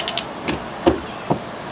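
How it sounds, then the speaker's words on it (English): Torque wrench tightening a bolt to 150 foot-pounds on a Yamaha APEX gearbox during clutch replacement, a few sharp ratcheting clicks and creaks spaced irregularly, close and moderately loud. "Looking for 150 foot-pounds. What's set on the torque wrench right now."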